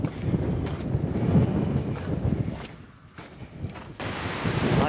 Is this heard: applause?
no